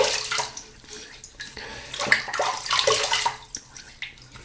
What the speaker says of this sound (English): Let's start lathering up the soap.